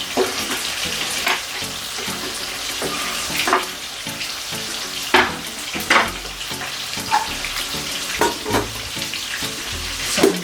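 Scallions sizzle in a pot while brown stew fish is being made, a steady close frying hiss with bursts of crackle and a few stirring knocks throughout, no voices.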